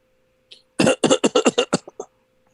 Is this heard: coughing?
yes